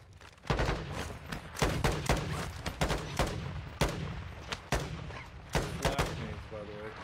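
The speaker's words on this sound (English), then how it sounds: "Taking effective fire." Video game gunfire in an online squad shooter fills the clip with repeated sharp, loud bursts and single shots at irregular intervals, layered over the game's background noise.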